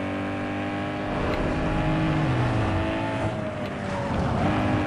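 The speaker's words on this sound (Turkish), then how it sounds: "Sesin güzelliğine bak. Egzoza bak." A Tofaş car engine in Need for Speed Underground 2 roars steadily with a throaty exhaust note, revving and shifting pitch as it drives, loud and continuous with no talking.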